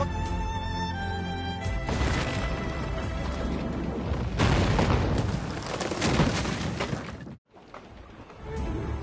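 Ship cannons fire in broadside during a naval battle in Assassin's Creed Rogue on PS4, loud booms and crashing blasts rolling one after another with a brief silent gap before the barrage resumes.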